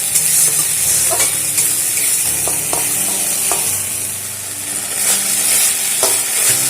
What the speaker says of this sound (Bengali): যেহেতু এর ভেতরে একটু আদা দিয়েছি, সেই জন্য একটু মশলাটা ভেজে নেব।